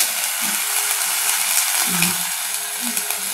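Fish rubbed with salt and turmeric hisses and crackles in hot oil in a pan, a dense, loud, continuous sizzle with a few soft stirring bumps beneath it.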